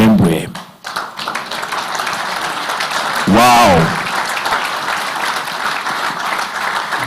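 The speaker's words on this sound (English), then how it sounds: "A big round of applause, ladies and gentlemen." Sustained applause from an audience at a cricket awards ceremony, a broad, continuous wash of clapping lasting several seconds, with voices and a brief exclamation heard over it.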